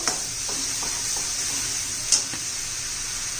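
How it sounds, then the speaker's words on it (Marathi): Tomatoes and grated coconut sautéing in oil for a fish curry give a steady broadband sizzle, with a few soft stirring scrapes and one brief clink near the end, no voices. "चांगलं तेल सुटेपर्यंत परतून घेऊया आपण"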